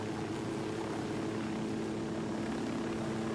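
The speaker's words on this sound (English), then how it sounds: "Quick, get in this helicopter." A helicopter flies in Ghost Recon Wildlands, heard from on board as a steady, loud rotor and engine drone that holds evenly from start to finish.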